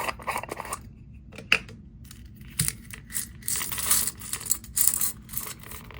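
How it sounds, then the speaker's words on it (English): Small beads from a Beltane Festival bead mix are handled and taken out of their packaging, with irregular crinkling plastic rustles and light clicks in short bursts separated by quiet gaps. "Let me take the beads out."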